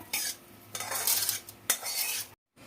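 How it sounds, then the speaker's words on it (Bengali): A metal utensil scrapes and clatters against a wok as fried vermicelli is tipped onto a plate, in several close scraping bursts with a brief silent gap near the end. "আমি একটা থালায় ঢেলে নিচ্ছি।"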